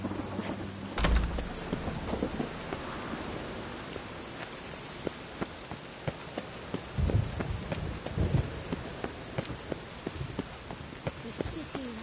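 Steady rain and rumbling thunder in The Witcher video game, a heavy thunderstorm with a loud thunderclap early on and deeper rolls later, rain hissing throughout with no talk.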